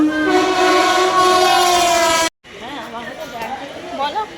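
At Bagnan railway station a train horn blares loud and close for about two seconds and cuts off abruptly, followed by platform bustle and people talking.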